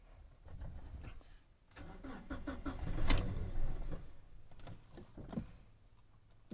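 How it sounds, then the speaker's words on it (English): A Toyota Hilux engine cranks after a fuel pump replacement, the starter churning in a rising, uneven burst near the middle before easing off, recorded close with some mechanical clatter around it. "we try to crank and see what happened"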